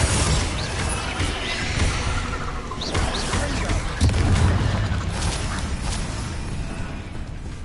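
Booming spell blasts from Bombarda and Confringo in the Hogwarts Legacy game, a dense run of explosive bursts and rumbling impacts over game noise, with a louder thump near the middle.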